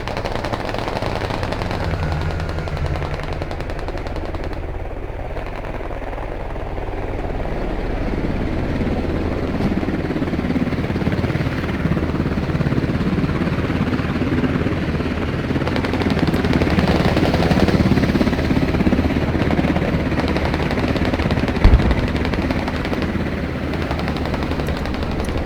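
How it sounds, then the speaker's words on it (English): A helicopter in the military shooter game Squad comes under sustained machine gun fire, with dense, loud overlapping gunfire over a constant low engine rumble for the whole stretch and a sharp louder crack near the end. No one speaks. "That US heli is going to take a lot of fire"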